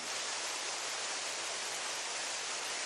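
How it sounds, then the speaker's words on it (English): Heavy, steady rain hisses on a tower roof at a golf course in Hawaii, a dense, unbroken wash of noise, constant and loud with no pauses. "that is the rain on our tower here by 18"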